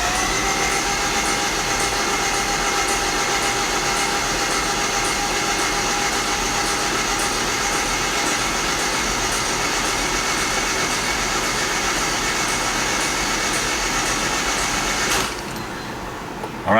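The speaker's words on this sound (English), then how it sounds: "just going to run the crank until the oil light comes on" A Honda D16Z6 engine turns over on the starter for an oil-pressure build, a steady, loud mechanical whir and drone running unbroken for about fifteen seconds before cutting off abruptly.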